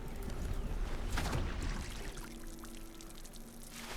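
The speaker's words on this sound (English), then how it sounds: "We definitely want to use the better watering can." Watering can pouring water in the video game RuneScape: Dragonwilds, a soft steady splashing pour that stays faint throughout, with a low hum beneath and a slight swell near the beginning.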